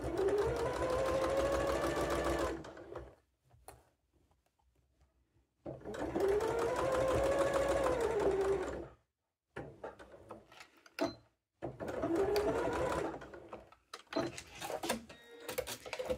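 A sewing machine stitches a Christmas fabric pouch in three bursts of a few seconds each, a close whirring hum that rises and falls with short quiet gaps and small handling clicks between runs.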